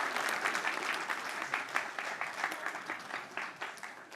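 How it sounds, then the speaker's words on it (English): Audience applause rolls on steadily for a few seconds, a dense wash of many clapping hands at moderate distance with no voices standing out. "Well, a round of applause."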